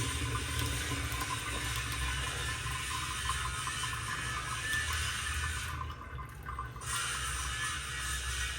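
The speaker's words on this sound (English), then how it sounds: "Then pour out the water." Water is poured out of an opened can of ackee, giving a steady trickling and splashing into a sink that briefly dips and then resumes, fairly faint and close.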